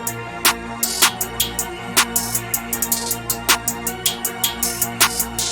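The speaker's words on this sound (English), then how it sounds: "we got another hi-hat, which is more like a subtle one" A subtle perk-style hi-hat riding inside a dark trap beat, crisp ticks in a bouncing pattern over booming bass and kicks, loud and clear with no one talking.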